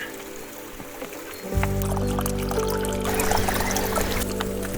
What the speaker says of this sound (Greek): Γεμίσαμε τα παγούρια